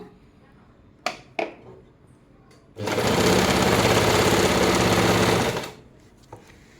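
An Usha Janome Stitch Queen sewing machine stitches a fall onto a saree, a loud continuous rapid whirring burst of about three seconds following a few soft handling clicks, with a quiet room around it.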